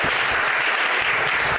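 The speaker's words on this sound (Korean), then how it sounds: "박수 한번 쳐주시죠." A church congregation claps together during a Sunday service, a dense, loud and continuous burst of applause filling the sanctuary for the whole stretch.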